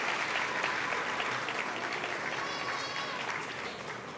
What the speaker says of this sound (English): let us give her a round of applause